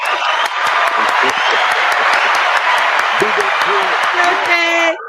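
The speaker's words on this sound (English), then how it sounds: "So let's give Dre a round of applause for saving Cherie's life" Audience applause with some cheering and whoops, a continuous dense round of clapping that ends abruptly, with voices talking over it.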